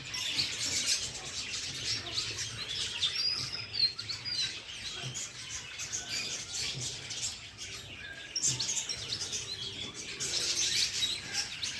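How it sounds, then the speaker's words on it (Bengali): Bright chirps and whistled calls of a myna bird at an eco park rise over a hissy outdoor background, scattered and moderately close. "দেখতে পাচ্ছেন সুন্দর ময়না পাখি"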